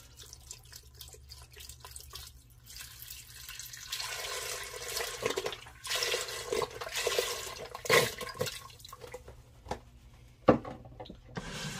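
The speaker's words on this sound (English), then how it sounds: "I'm going to take one of these 32-ounce containers of chicken broth and pour that in" Chicken broth from a 32-ounce container pours and splashes into a pressure cooker pot in several bursts, with gurgling and a few clunks in between; close by, no talking.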